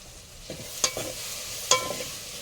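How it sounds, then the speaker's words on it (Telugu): Chili powder scorching in a hot pan, with a low sizzle under a few sharp scraping stirs close by and no voices. "రెండు స్పూన్ల కారం మాడిపోతుంది"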